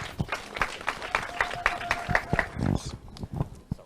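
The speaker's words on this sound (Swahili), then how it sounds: "Wapi makofi ya clergy?" A crowd at a political rally claps for the clergy, scattered sharp claps mixing with voices and cheering, and a brief tonal call rises above the noise before the applause thins out.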